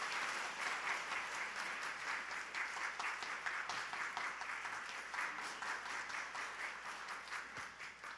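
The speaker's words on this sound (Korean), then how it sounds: "우리 박수로 함께 축복해 드리겠습니다." Steady applause from a church congregation during a Sunday worship service, marking an appointment announcement. Dense, even clapping that stays level and fairly distant across the whole stretch, with no voices on top.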